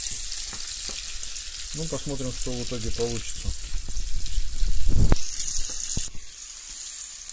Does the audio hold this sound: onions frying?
yes